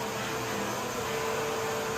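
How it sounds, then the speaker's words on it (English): A running vacuum cleaner gives off a steady, low suction whoosh with a faint constant hum, fairly quiet and unbroken, with no speech. "You can't hear this vacuum cleaner at all, only from the suction."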